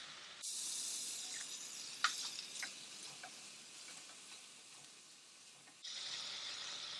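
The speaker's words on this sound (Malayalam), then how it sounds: "ഒരു 3 ടേബിൾ സ്പൂൺ വെളിച്ചെണ്ണ ഒഴിച്ചു കൊടുക്കും. ഈ ഉള്ളി ചതച്ചതിട്ട് വഴറ്റിയെടുക്കും." Crushed onion sautéing in coconut oil for a Kerala-style mutton roast gives a steady, soft sizzle with faint stirring clicks, dropping quieter for a stretch before the hiss swells again near the end.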